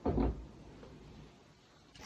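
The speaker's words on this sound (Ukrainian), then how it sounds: "Двері відкрились." A door opens with a short, close knock and rattle at the start, followed by faint room quiet and a soft sound at the end.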